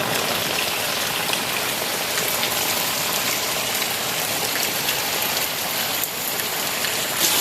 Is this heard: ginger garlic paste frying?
no